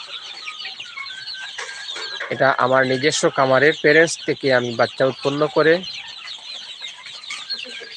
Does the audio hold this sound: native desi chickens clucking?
yes